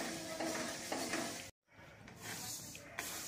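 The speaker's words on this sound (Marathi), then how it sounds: "डाळ भाजून घ्यायची।" Lentils dry-roasting in a pan for chakli flour, with steady scraping and stirring of the spoon against the pan over a soft continuous sizzle, briefly cut off midway, then resuming.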